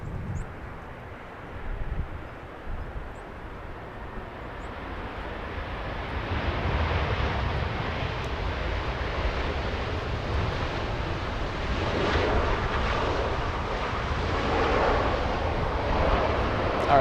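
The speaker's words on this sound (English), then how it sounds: "All right, that's Lufthansa coming in." A Lufthansa airliner comes in to land at Los Angeles International Airport, its engines a broad, steady roar that swells gradually over several seconds, heard from a distance with wind noise and no clear talk.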